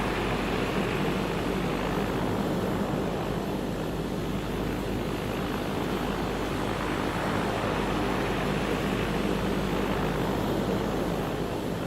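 Twin engines of a Beechcraft Baron 58 running steadily after start, a dense continuous roar with broadband rush that stays even and loud throughout, no voices.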